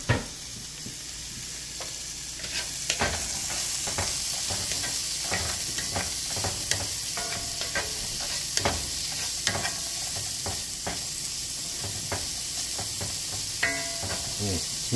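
Ingredients for an autumn olive pie cook down in a pot with a steady close sizzle. Scattered clicks and pops come from stirring throughout, and there is no talking.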